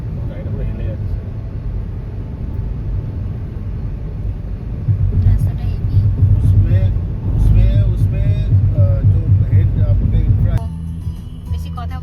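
A car driven slowly along a road gives a steady low engine and road rumble from inside the cabin, with people talking over it throughout.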